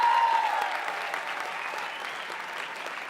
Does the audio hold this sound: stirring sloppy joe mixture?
no